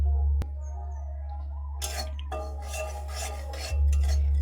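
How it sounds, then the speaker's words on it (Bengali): One cup of semolina is dry-roasted in a pan and stirred with a spoon, giving soft, dry scraping and rasping for a few seconds over a steady low electrical hum, close and fairly quiet. "তো সুজিটা এক থেকে দেড় মিনিট ভালো করে একটু ভেজে নেব যাতে সুজির কাঁচা গন্ধ চলে যায়"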